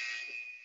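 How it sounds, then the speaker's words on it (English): A workout timer buzzer sounds during a squat exercise class, one steady, high, sustained electronic tone lasting under a second, loud and clear with no talk over it. "As soon as that buzzer goes, we're straight into it."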